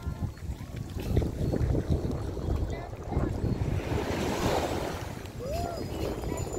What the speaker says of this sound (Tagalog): Dumalon-alon na ngayon, oh.